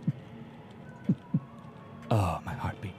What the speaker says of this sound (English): Oh, my heartbeat.